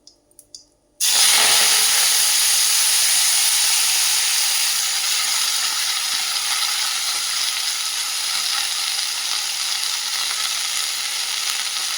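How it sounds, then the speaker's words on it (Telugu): Washed fenugreek leaves hit a hot pan for a chutney, bursting into a loud, steady sizzle and hiss that starts abruptly after a brief quiet moment and continues close and unbroken to the end. "ఇందులో కడిగి పెట్టుకున్న మెంతి కూర వేసుకోవాలి"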